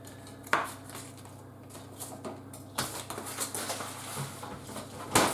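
A knife cuts unsalted butter into rough cubes on a board, making a few soft knocks and scrapes with a sharper tap near the start and end, with no voices.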